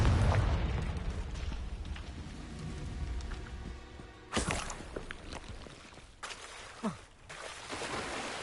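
The Confringo fire spell bursts in Hogwarts Legacy with two sharp, booming blasts a couple of seconds apart, rising over a low rumbling ambient game background.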